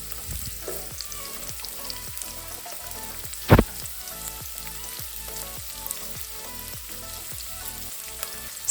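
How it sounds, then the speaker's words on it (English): Red onions fry in cooking oil over low heat, a steady close sizzle with a rhythmic pattern of stirring or popping and one loud sharp crackle burst midway; no talking. "Next, we are going to adding our red onions and fry them till golden brown on low heat."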